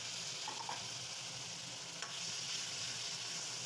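Continuous sizzling of tomato paste frying in a pan, steady and close, with faint stirring and no voices.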